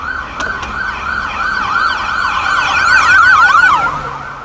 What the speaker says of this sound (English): That's an ambulance. That's obviously on the highway.